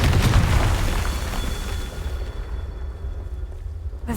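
A Confringo fire spell blast in the Hogwarts Legacy video game, one loud deep boom that rolls off into a fading rumble over a few seconds, heard alone.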